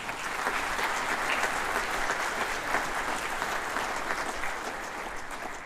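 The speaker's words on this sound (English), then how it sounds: "Let's give them a round of applause for their work." Audience applause after a middle school jazz band's holiday concert set, a steady, even wash of clapping from a crowd that holds its level to the end.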